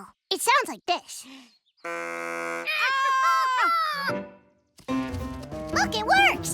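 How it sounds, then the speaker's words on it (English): A homemade deer call blown in a cartoon, a buzzy sustained tone with wavering pitch that bends and slides, close and loud, set between bursts of animated voices and sound effects. "A deer call."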